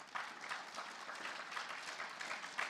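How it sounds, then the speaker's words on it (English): An audience at an FFA banquet applauds, a steady patter of many hands clapping throughout, fairly faint and distant in a large room. "Can we give those guys a big round of applause as well?"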